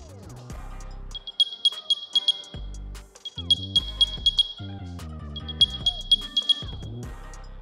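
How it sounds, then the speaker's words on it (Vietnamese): Three bursts of rapid high-pitched electronic beeping from an AirPods Pro 2 charging case, each a quick run of chirps, heard over background music with a low bass line. "mở cái tính năng Find My và nó kêu tít tít tít tít tít"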